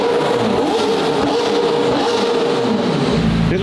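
A straight-piped McLaren Senna hypercar engine exhaust: a loud, deep, sustained drone that rises in pitch as the car drives, heard alone without talk.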